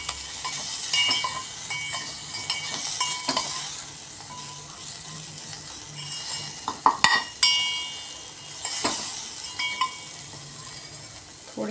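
Garlic sautéing in hot oil in a pan for kadhi, a steady close sizzle with scraping stirs and occasional metallic knocks of the spoon against the pan.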